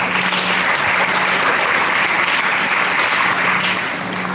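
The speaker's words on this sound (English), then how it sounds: "all those participants who spoke against the motion needs a big round of applause." Loud, dense applause from a debate audience for the participants, a steady wash of clapping that holds evenly throughout with a faint hum underneath.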